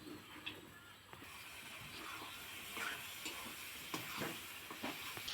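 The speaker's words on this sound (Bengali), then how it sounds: "মাংসটা আমি ভালোভাবে নাড়াচাড়া করে নেব।" Chicken pieces in spiced oil sizzle softly while being stirred, a faint continuous frying hiss with occasional scraping and clatter.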